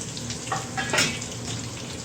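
Green chillies and capsicum frying in a pan, giving a steady soft sizzle with a few brief stirring scrapes and bursts of crackle, fairly quiet and without speech.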